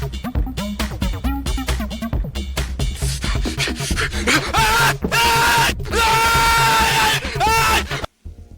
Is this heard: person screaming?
yes